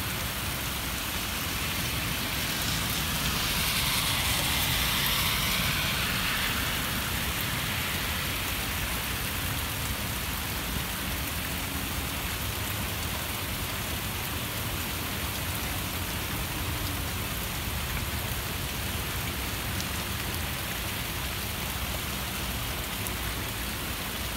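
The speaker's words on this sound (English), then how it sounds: "The raindrops just got bigger. They're big. they're massive raindrops now" Heavy rain pours steadily during a severe thunderstorm in Westfield, Massachusetts, with big raindrops hitting surfaces in a dense, continuous hiss that stays loud throughout and has no voices over it.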